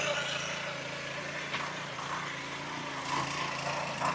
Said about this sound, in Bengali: এই যে দেখুন একেবারে গড় গড়িয়ে চলছে মেশিনটা